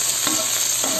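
Onion, garlic and tomato sautéing in a hot pan, a steady close sizzle with two brief stirring scrapes, no voices.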